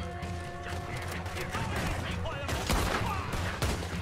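Gunfire in a Red Dead Redemption 2 game session, a fusillade of sharp repeated shots and mechanical clicks, fairly close and dense, crackling across the whole stretch with talk faint beneath.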